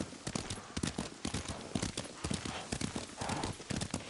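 Horse hooves clip-clop in a quick, steady rhythm as a horse is ridden in the video game Ghost of Tsushima, close and prominent throughout with no speech over them.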